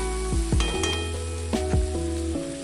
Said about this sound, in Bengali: দইটাকে আমরা ভালো করে মিশিয়ে নেব।